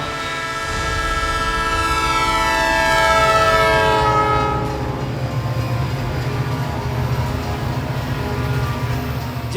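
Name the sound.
train passing at Raja Talab railway crossing near Varanasi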